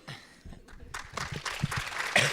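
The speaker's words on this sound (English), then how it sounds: "I love these little claps" A small audience gives a short, light round of applause, scattered claps building over a couple of seconds at a panel event, with some faint murmuring.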